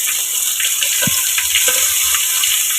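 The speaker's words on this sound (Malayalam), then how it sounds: "ഞാൻ കുറച്ച് സവോള ഇട്ട് കൊടുക്കുകയാണ്" Finely chopped onion hits a hot pan for chicken curry, giving a steady, close sizzle and hiss throughout, with a few soft clicks of stirring.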